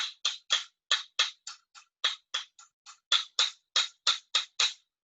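Two sets of tongs, one a wooden salad pair, are squeezed shut in turn, making about eighteen quick, clean taps close by, some a little softer and thinner in the middle, alone with silence between them.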